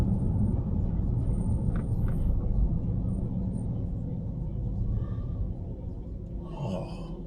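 Supercharged Ford XR8 Sprint V8 idling up close, a steady low rumble that holds evenly throughout, with a brief breathy voice sound near the end.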